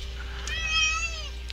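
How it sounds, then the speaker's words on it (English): A cat gives one drawn-out meow, close and clear, its pitch rising and then falling, ending with a short noisy burst. "Cat, you gotta get over there."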